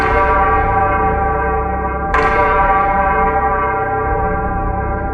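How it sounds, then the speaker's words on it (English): Resonant bells ring steadily with a long, humming sustain, and a fresh strike lands partway through. The sound is loud and close, and no voices are heard. "Not a call, not singing, but bells."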